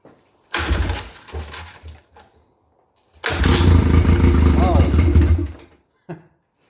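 An old carbureted engine that had sat unused for 20 years turns over briefly, stops, then fires and runs loudly for about two seconds before cutting out, close by.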